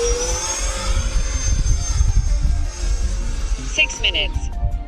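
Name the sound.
radio-controlled jet plane flying with throttled-down engine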